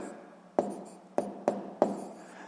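Four sharp taps of a pen on paper as numbers are written by hand in a sixth-grade maths exercise, spaced irregularly against a quiet background with no talk.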